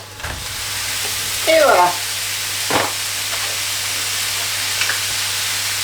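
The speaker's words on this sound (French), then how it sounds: "j'ai fait là un peu de place pour pouvoir mettre la viande directement dans la même poêle" Ground meat sizzles in a frying pan alongside other ingredients for a homemade bolognese, a steady hiss with a brief stirring scrape in the middle; a voice speaks briefly at the end.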